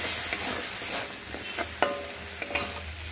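Turmeric, cumin and red chili powder being stirred and sautéed with dal for a dal spinach dish, a soft steady sizzle with occasional scrapes and taps of a spoon in the pan.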